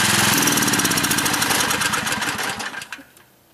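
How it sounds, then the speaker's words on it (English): Small generator running on synthetic gas made from wood stove smoke, a rapid rhythmic engine putter close by that is shut off, sputtering and winding down to silence in the last second. "let's kill the generator and we'll pull the hose out"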